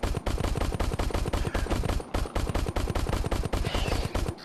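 Rapid gunfire from the VR shooter Crashland, a dense, loud burst of repeated shots that keeps firing almost without pause, with no voices over it.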